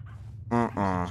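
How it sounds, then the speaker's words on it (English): Demon dogs in the horror video game Pacify let out two short, harsh barks in quick succession, loud and close over a low rumbling background. "Those are not chickens. What do you mean? Those are dogs. Demon puppies."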